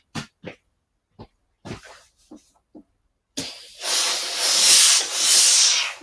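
A steam iron presses fabric, with a few soft knocks and taps first, then a loud, close, continuous hiss of steam that swells and eases over several seconds.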